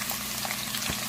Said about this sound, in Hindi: और उसी ऑयल में हम प्याज़ों को फ्राई करेंगे।